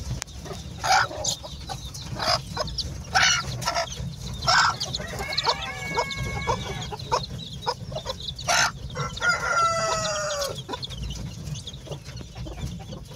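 A hen broods naturally hatched chicks, clucking while the chicks peep in bursts against a steady background hum, with a couple of longer crowing-like calls partway through.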